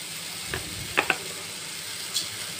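Chana masala sautés in a pan after salt goes in, a constant close sizzle broken by a few sharp scrapes and clinks of a spatula stirring.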